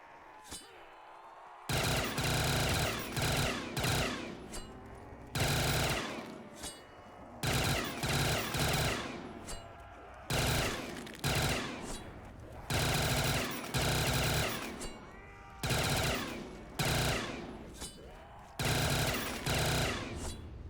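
Rapid automatic gunfire from a weapon in a Call of Duty custom zombies map, loud sustained bursts separated by short pauses, repeated through the whole stretch with no talk.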